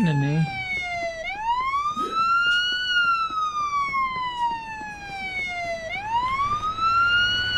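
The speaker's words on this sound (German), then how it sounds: "Du hast einfach so die Sirene." A police car siren in the Police Simulator: Patrol Officers video game wails in slow rising and falling sweeps, fairly loud and steady, with faint game background underneath.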